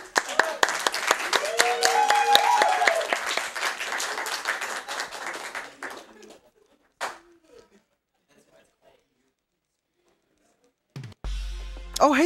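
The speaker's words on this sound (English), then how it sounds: "I think you guys deserve a clap for that." An audience at a summer speedrun charity event breaks into several seconds of loud, dense clapping and applause, which then thins out into scattered claps and falls silent.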